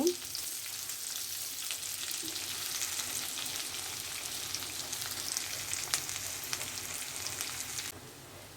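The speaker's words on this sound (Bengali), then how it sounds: "পেঁয়াজ কুচি দেওয়ার পরে আরেকটু আমি ভেজে নেব।" Chopped onion, about one large onion, sizzles in a pan for spicy pasta, a continuous close frying hiss with faint stirring scrapes. The sound drops off sharply near the end.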